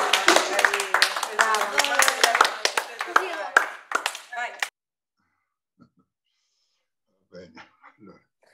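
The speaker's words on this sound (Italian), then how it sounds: "Andiamo a fare un applauso." Clapping from participants in an online music education webinar, a burst of sharp, uneven claps over about four seconds that stops abruptly, then near silence with a few faint sounds.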